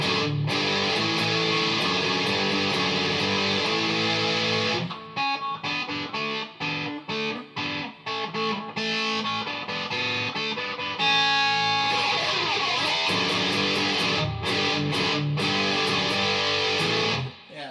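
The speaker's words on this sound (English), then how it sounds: "so this distortion pedal is a really great distortion pedal" Electric guitar played through an Electro-Harmonix Pocket Metal Muff distortion pedal, loud sustained heavily distorted chords followed by choppy muted riffs and stops, then ringing chords again, with no talking.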